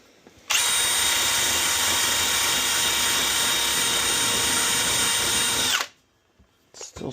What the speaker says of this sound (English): I thought my Torx driver would work.